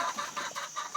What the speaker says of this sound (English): So that'll leave me with 2 Easter egger roosters